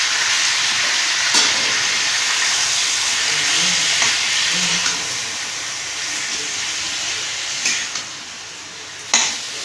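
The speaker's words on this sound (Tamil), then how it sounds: "இது இப்படியே நல்லா வதங்கணும்." Tomato chutney with curry leaves, coriander, dried red chilies and tamarind sautés in a pan, a steady loud sizzle with occasional spoon knocks and scrapes against the vessel, close by and without speech.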